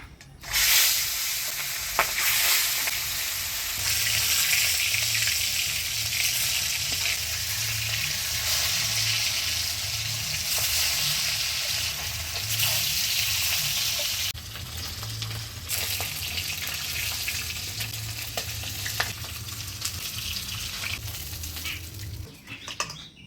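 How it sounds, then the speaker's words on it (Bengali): Ayer catfish pieces fry steadily in hot oil, a continuous loud sizzle with occasional stirring scrapes, in a Bengali village kitchen, with no talking. "এবারে মাছগুলো ভেজে নেব।"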